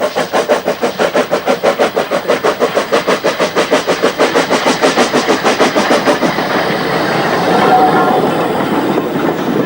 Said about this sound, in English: P-Class number 1556 is seen with the splendid K and ESR mixed train, run exclusively for photographers